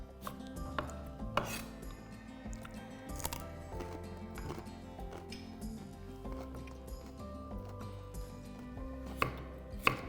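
Carrot, green chilli and onion being coarsely chopped on a board, a string of sharp knife knocks at an uneven pace with a few louder strikes, fairly close and quiet otherwise.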